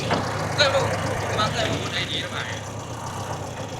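A remapped diesel pickup engine starts and settles into a steady, rough idle close by, with a low rumble running throughout while voices murmur faintly over it.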